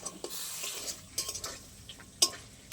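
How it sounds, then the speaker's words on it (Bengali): Ground spice paste for an elephant-foot yam curry being sautéed in a pan, with a faint sizzle under repeated spatula scrapes and metal clinks and a sharp knock near the end. "একটু ভালো করে কষে নেবো মশলাটা"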